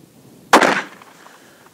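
A single sharp gunshot from a BFR revolver chambered in .460 S&W Magnum, fired two-handed: one loud close blast with a brief decaying tail, then quiet.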